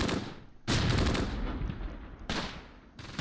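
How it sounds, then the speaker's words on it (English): Gunfire in the WWII tactics video game Close Combat: Gateway to Caen comes as several sharp bursts of shots with gaps between them, fairly near and moderately loud, with no talk. "Somebody else is still shooting."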